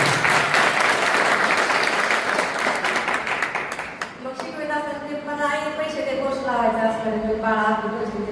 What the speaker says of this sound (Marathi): खरं तिला आपण जोरात टाळ्या वाजवतो.